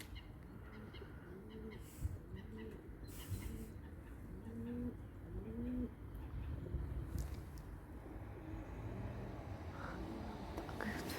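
Pigeons coo overhead in soft, repeated rolling calls, a steady low murmur of several birds against quiet background noise in Schaffhausen.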